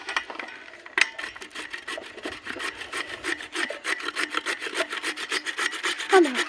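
Raw green papaya being scraped on a hand grater, a rapid, steady run of close, rasping strokes lasting several seconds with no talking.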